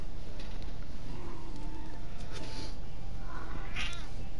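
A cat meows repeatedly, several drawn-out calls with a caterwauling edge spaced across a few seconds over a constant background hum.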